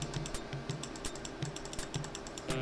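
Computer keyboard keys tapped in quick, uneven bursts during a Space Quest III PC game session, with arrow keys pressed repeatedly; close and crisp, with no talking.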